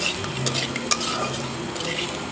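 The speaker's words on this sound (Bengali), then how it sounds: "এই মাছগুলি আমি যে অনেক কড়া করে ভেজে নিচ্ছি" Fish frying crisp in a pan, a steady soft sizzle with a few light scrapes and clinks of a utensil, close and moderately quiet, no talking.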